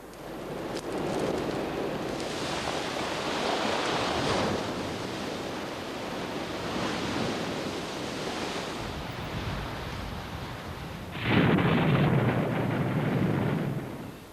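Sea waves break and wash against a shoreline beneath eroding boulder clay cliffs, a steady broadband roar with surges and a louder crash late on, mixed with gusty wind.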